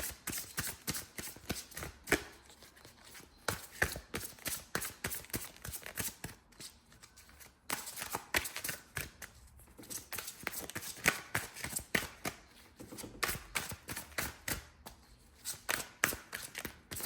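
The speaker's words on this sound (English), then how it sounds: "let's pull some advice cards for Pisces." Tarot cards are shuffled by hand, close and fairly quiet, as a steady stream of soft riffling flicks and taps running throughout with brief pauses.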